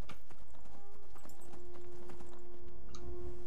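Horse hooves clip-clopping in Skyrim, a quick irregular series of clear hoof strikes close by, with a faint tonal hum underneath and a low thud near the end.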